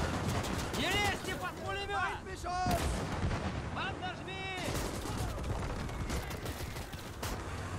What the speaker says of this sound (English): We'll let our tanks continue to fire.